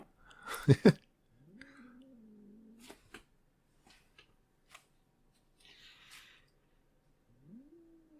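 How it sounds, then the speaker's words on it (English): Two cats sound off behind the speaker as a fight starts, with a sharp burst of noise near the start, then drawn-out low yowls and growls, scattered scuffs and hisses, and a rising wail at the end, fairly faint and at a distance. "I think there's about to be a cat fight behind me. A literal cat fight between two actual cats."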